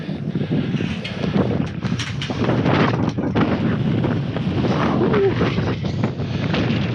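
Strong wind roars across the microphone while a truck tarp flaps and buffets against the trailer, a loud continuous gusting rumble with irregular flutters and thumps, close up outdoors.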